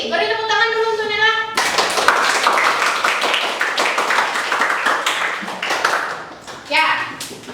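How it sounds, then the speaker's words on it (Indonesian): Classroom pupils clap together for a classmate, a dense burst of quick hand claps fairly close and loud, preceded by a brief sustained tone and ending with a short final flurry. "Beri tepuk tangan dulu untuk Nela."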